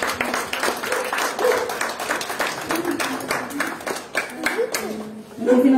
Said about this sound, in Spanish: le brindamos fuertes aplausos